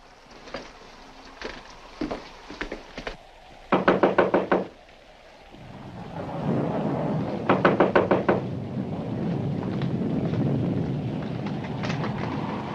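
Knocking on a front door in a 1946 radio mystery drama, heard as several loud, fast bursts of sharp raps separated by pauses, the later ones over a rumbling background.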